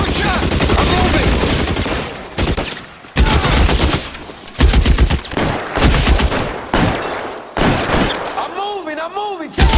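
Gunfire in L.A. Noire: rapid bursts of shots crackle through a loud firefight, broken by brief pauses, with someone shouting commands over the shooting.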